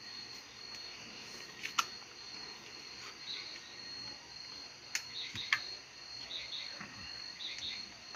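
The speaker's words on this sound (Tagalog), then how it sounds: "Kuliglig talaga yan?" Faint, steady cricket chirping fills a quiet night, with a few soft clicks and knocks rising briefly above it.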